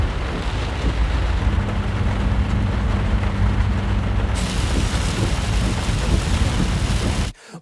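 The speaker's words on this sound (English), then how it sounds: "New storms, new floods." Storm with heavy rain and rolling thunder, a dense loud hiss of rainfall with deep rumbles underneath, continuous and close until it cuts off abruptly at the end.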